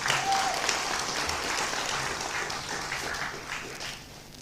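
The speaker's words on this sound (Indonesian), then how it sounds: "kita berikan aplaus" Audience at an Indonesian NasDem party press event applauding, a thick burst of clapping that starts strong and gradually thins and fades over a few seconds.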